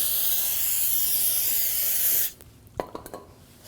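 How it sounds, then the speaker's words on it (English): Brake parts cleaner sprays in a loud, steady hiss onto the rotor of a 2001-2009 Volvo S60 during a rear brake job, lasting about two seconds, then cutting off to a few close clicks and handling noises. "I'll just take a little brake parts cleaner, clean up the rotor"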